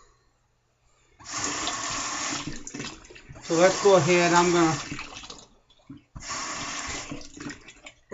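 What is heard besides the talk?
water running while adding water to shaving lather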